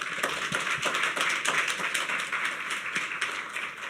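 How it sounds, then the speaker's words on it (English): Steady applause from a crowd at a health conference plenary session, a dense patter of many hands clapping at even loudness throughout, with no voices. "just a round of applause"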